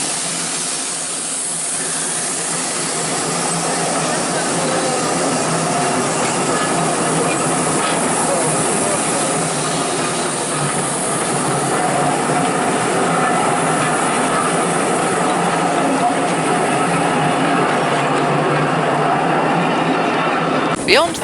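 A North Yorkshire Moors Railway steam train with an LNER carriage set passing the engine shed, a loud, steady rushing hiss and rumble of wheels that builds slightly and holds throughout.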